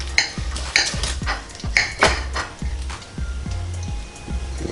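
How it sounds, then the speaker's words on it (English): A knife cuts into an air-fried pork chop on a plate, a series of regular scraping and clinking strokes with a low rhythmic thump beneath, close and fairly loud. "Just gonna, let's see, cut this one right here."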